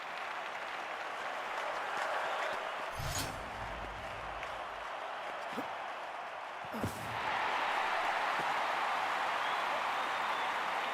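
An Olympic stadium crowd at the London 2012 long jump applauds in a steady wash, swelling again late in the stretch, with a few sharp thuds and claps standing out and no talk over it.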